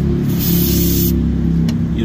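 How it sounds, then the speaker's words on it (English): Brake cleaner hisses in a continuous aerosol spray close up for about a second onto the rear brakes of a 2008 Toyota Avalon Limited, over a steady low mechanical hum, which continues after the spray stops. "Spray away all that dirt,"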